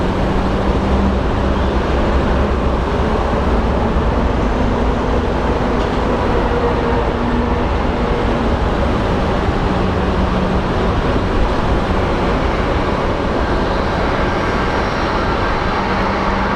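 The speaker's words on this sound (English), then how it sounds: "we have another plane touching down" An airplane touching down at Sky Harbor airport, heard as a loud, steady broadband roar that holds evenly from start to finish with no voices over it.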